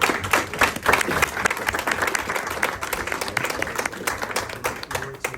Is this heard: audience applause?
yes